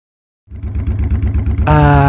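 Motorcycle being ridden, its engine starting up after a brief silence and running as a steady pulsing drone, then rising in pitch as it accelerates near and loud, with no talking.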